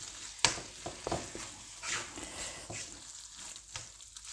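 Jarred tomato sauce cooks down in a pan, a faint, quiet sizzle broken by a few soft taps and clinks, with no voices.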